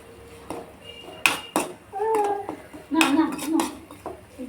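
A spoon scrapes and clinks against a pan as chilli powder and turmeric are stirred into a Kerala-style curry. The knocks are short and scattered, with a faint voice speaking in the background.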